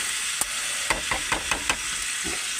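Crabs frying in hot oil for a spicy crab jhal, with a steady close sizzle broken by several sharp knocks and scrapes as they are stirred in the pan.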